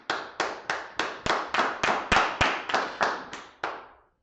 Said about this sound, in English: All right, Most High in Christ, clap it up.